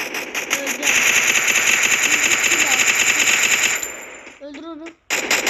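Sustained machine gun fire from a video game, a loud continuous automatic burst lasting several seconds before cutting out, followed by a few brief clicks and a final short burst.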